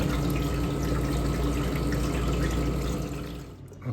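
An ice machine with a float valve fills with water, a steady rushing flow through the machine that runs evenly before tapering off abruptly near the end.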